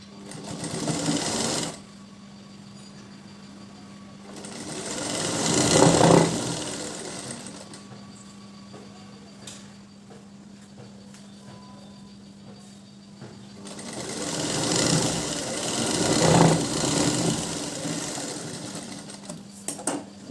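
Sewing machine stitching a brocade blouse in two loud bursts of steady whirring, separated by quieter stretches where a low motor hum continues.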